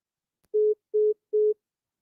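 A telephone line tone after a caller drops off a phone-in radio show: three steady, evenly spaced beeps, each about a fifth of a second, clean and loud against silence.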